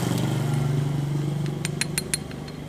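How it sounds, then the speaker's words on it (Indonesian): Worn CVT on an automatic scooter idling, a steady low engine drone with a faint rhythmic knocking, joined later by a few sharp metallic clinks. "Bunyi begini, klotok klotok klotok klotok klotok klotok klotok klotok ya. Itu pas stasioner atau ketika kita turun gas."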